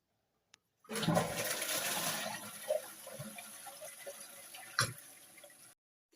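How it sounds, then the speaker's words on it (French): A toilet flushing: a sudden loud rush of water that swells for a few seconds, then gurgles and tapers off as the bowl drains, heard up close in a small room with no voices. "une chasse d'eau est un dispositif de rinçage de toilettes"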